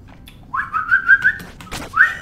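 A crow in the Jump King video game gives several loud, close cawing calls in a quick series, then a short pause and one more call, over faint background hiss.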